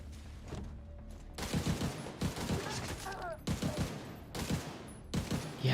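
Powerful gun in The Division 2 fires in short, sharp bursts, several clusters of loud cracks following one another with brief gaps, a voice speaking between them.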